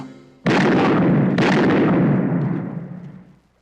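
A gunshot in a Filipino action film goes off as a sudden, loud blast, followed about a second later by a second sharp burst, both ringing out and decaying over the next two seconds.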